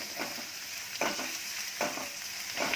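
Chopped onion and green chili sizzling in a pan for Kachnar ki sabzi, a steady hiss of frying broken by three or four short stirring scrapes, close by and without talk.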